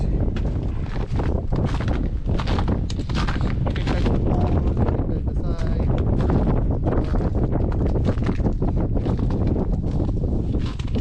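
Strong wind in the Swiss mountains buffeting the microphone, a loud continuous roar with gusty rumbling that never lets up.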